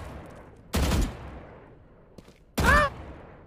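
Two loud, sharp gunshots in Valorant, spaced about two seconds apart, the second ringing with a metallic tail, set over a quiet game background.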